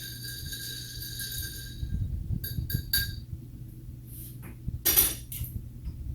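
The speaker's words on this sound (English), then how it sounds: "And stir the drink." Ice clinks and rattles against a glass as a Long Island iced tea is stirred, with a few bright chiming knocks standing out over a faint low hum, close and fairly quiet.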